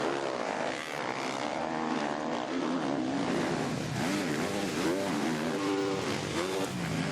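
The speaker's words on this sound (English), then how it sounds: "That distinctive note, that Yamaha, just a couple of panic revs right towards the end of the wave section." Yamaha motocross bikes race at an MXGP event in Emilia Romagna, engines screaming and revving in rising and falling waves, several machines overlapping loudly and continuously.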